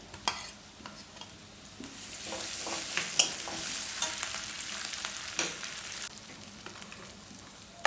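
Garlic and ginger paste fries and is stirred in a pan for a Bengali-style ghugni, a steady sizzle broken by scraping strokes of the spoon, close and moderately loud with no voice.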